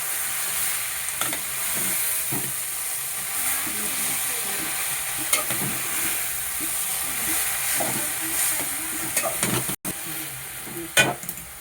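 Green vegetables frying and being stirred in a pan over a low gas flame, with a steady soft sizzle and occasional scraping stirs, up close.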